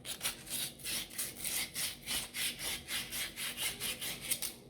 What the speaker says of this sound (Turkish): Şimdi zımparamızı yapalım.